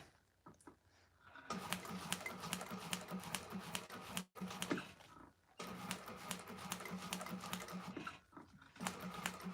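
Sewing machine stitching the exterior of a vinyl bag, a rapid mechanical chatter running in bursts with short pauses between runs, close and fairly clear.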